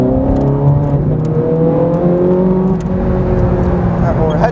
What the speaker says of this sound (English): you've got a 503 horsepower V8 behind your head with a set of active exhaust pipes that when you lean in enough, you'll hear it change